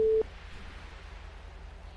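A telephone busy signal on an unanswered call: a short single tone beeps at the start, then a faint, steady low hum continues alone with no voices.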